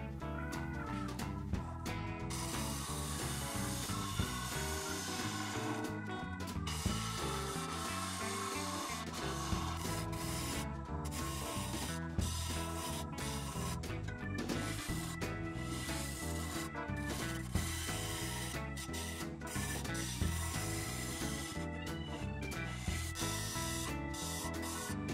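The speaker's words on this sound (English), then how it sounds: "Minutes of sanding in 22 seconds." A maple burl candy dish is sanded on the lathe with a steady, loud abrasive rubbing hiss that goes on continuously over rhythmic mechanical rumble, with brief pauses and no talk.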